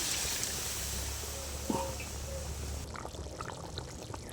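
Water pours into a pot of mung dal with potatoes as a continuous, moderately loud rushing stream for about three seconds, then cuts to quieter, faint bubbling and small clicks.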